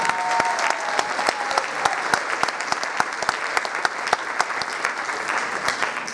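Audience applause after a string orchestra concert at San Diego Summer Music Institute, steady clapping from a seated crowd with a few sharper individual claps standing out, moderately loud and sustained throughout.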